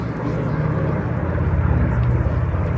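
Vintage warbirds of the Red Bulls display team, a B-25, P-38, P-51 Mustang and Corsair, drone past at the Sywell airshow, a steady low piston-engine rumble holding at an even loudness throughout.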